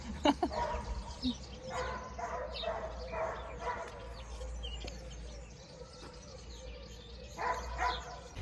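Distant German shepherd barking in scattered bursts over a steady low hum, with faint birds chirping in the background, in a garden.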